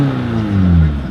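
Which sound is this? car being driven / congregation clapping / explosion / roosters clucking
car being driven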